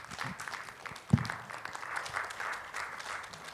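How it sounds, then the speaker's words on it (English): Conference audience applauds its panelists with light, thin clapping, fairly quiet and distant, with one sharp knock partway through. "A big round of applause for our panelists."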